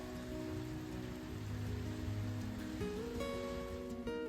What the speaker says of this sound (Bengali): এখানে মুষলধারে বৃষ্টি পড়ছে।